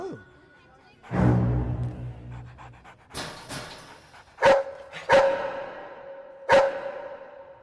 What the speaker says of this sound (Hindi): ये तो कुत्ता है।